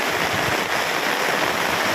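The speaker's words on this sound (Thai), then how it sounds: "ฝนตกหนักครับ" Heavy rain falls at a campsite in Nakhon Nayok, Thailand, a loud, constant roaring wash of water drumming close by with no voices.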